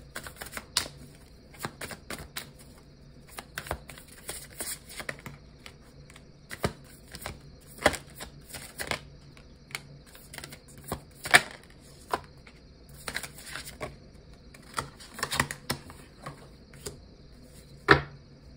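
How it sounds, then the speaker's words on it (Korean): Tarot cards are shuffled and drawn close by, giving soft papery riffles and scattered sharp flicks and snaps at an uneven pace, quiet overall with no talk. "그러면 이쯤에서 여러분들을 위한 타로 카드 좀 뽑아볼게요"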